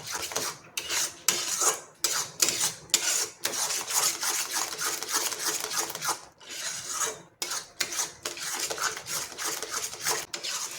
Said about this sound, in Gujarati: આ રીતે શીરાને હલાવીને સરસ મિક્સ કરી લેવાનું છે